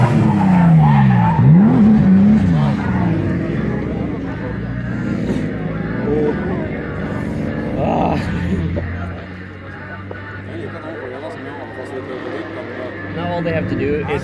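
Cars drifting at a free drifting event send out loud, sustained tire squeal and skidding with revving engines, the screech wavering as the cars slide, while people talk over the noise.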